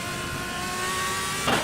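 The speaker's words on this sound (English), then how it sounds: "Beautiful engine sound as we head down the start-finish straight and into the center chicane" A Le Mans Series prototype race car engine drones steadily and loud as the car runs down the start-finish straight toward a chicane, a sustained high mechanical whine with a brief surge at the end.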